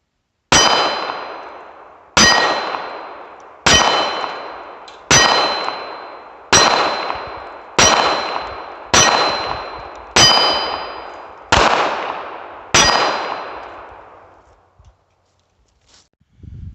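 Pistol shots from a SCCY CPX3 chambered in .380 ACP ring a steel target at seven yards: ten sharp, evenly spaced reports, each followed by a bright metallic clang that decays, loud and alone with no talk.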